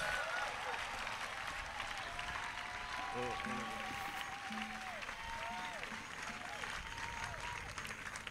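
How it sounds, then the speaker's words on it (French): Congregation at a French-language church gathering clapping in praise, a continuous, fairly quiet and distant wash of hands heard through a roomy space, with voices and sustained sung or spoken tones rising over it. "Let's clap for Jesus"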